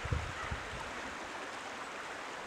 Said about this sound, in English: this is pretty quick moving water right here